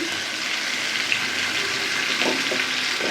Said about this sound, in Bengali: রান্নাবাড়ির ভিডিওতে ছ্যানছুন শব্দ যদি না হয় তাহলে রান্নার আর কি মজা